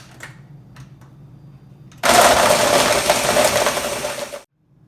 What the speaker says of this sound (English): while the blender was going, I put a shirt on